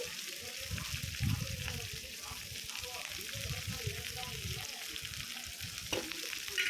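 Sliced onions sautéing in a pan with a pinch of salt, a soft steady sizzle with repeated low scraping strokes of a spoon, close but fairly quiet throughout.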